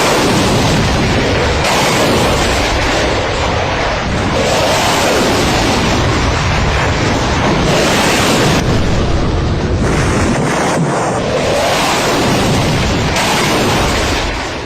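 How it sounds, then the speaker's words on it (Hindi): A loud, dense roar of blasts and booms rolls on without pause, with repeated surges like Rafale missile launches and explosions crowding one another. "कुछ इस तरह रफाल ने मिसाइल फायर की"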